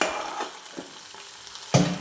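A hot tempering of mustard seeds fried in oil is poured into beetroot pachadi with the stove switched off. A soft crackle and sizzle runs through the clip, with a few light stirring taps and a sharp burst of sizzling near the end.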